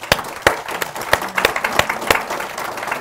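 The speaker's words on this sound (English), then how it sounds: "I'm going to ask you for a round of applause for our panelists." Audience at a governance panel session claps for the panelists, a moderately loud, uneven round of applause with a few sharp individual claps standing out, lasting a few seconds.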